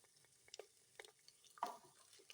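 Garlic ginger paste being fried and stirred in a clay pot, faint scattered scraping and soft sizzling bursts in an irregular rhythm, close and quiet with no talking.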